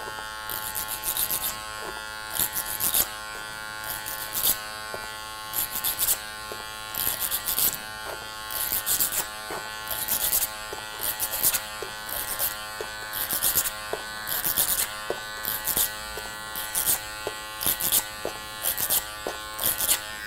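An electric hair clipper cuts hair over a comb at roughly thirty-degree angles, giving a close, steady buzz broken by regular louder bursts as it passes through the hair, with no talking.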